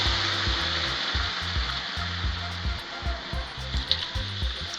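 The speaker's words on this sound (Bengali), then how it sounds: "ওই যে ভেজানো পনিরগুলো জল শুদ্ধ আমরা কড়াইতে ঢেলে দেব।" Soaked paneer poured with its water into a hot kadai for paneer ghugni, giving a steady close hiss and sizzle with bubbling and faint scraping beneath, no voices.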